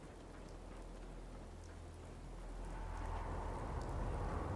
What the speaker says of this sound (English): okay, here comes the rain.